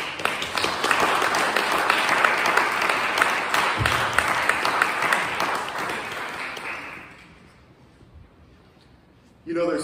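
A live audience claps for a man's big birthday, a dense, steady wash of applause that carries for about seven seconds before thinning out and fading away.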